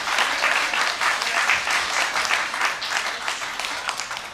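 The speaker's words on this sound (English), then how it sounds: "so that deserves a very big round of applause" Audience at a Hawaiian music show gives a sustained, full round of applause, many hands clapping in a steady, dense roar throughout.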